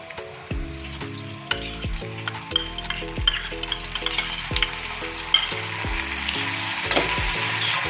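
Soaked moong dal frying in hot garlic oil gives a continuous sizzle close by, broken by repeated clinks and scrapes of a spoon stirring against the pan.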